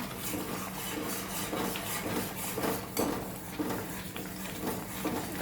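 Carrot chutney with powdered jaggery stirred in a pan, a repeated soft scraping and tapping of a spoon against metal over a faint bubbling background, close and quiet with no talking.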